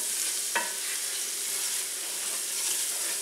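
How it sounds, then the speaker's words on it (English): Flour being stirred into a hot pan for a chicken fricassee sauce gives a soft, steady sizzle with one brief scrape of the spoon near the start, close and fairly quiet throughout. "stir this in for about 1 minute"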